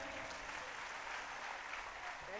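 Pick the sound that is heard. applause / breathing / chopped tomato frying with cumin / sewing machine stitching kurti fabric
applause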